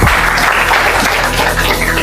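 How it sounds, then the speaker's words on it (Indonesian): Applause from a classroom of students for a classmate named Nisa, loud and continuous clapping that fills the whole short stretch with no voices over it. "tepuk tangan buat Nisa"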